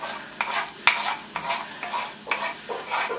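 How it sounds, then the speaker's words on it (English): Rice frying with yellow onion and garlic is stirred in a pan, with a steady sizzle under repeated scraping strokes of the spoon and one sharp clack near the start. "now I'm just going to keep stirring it until the rice gets brown"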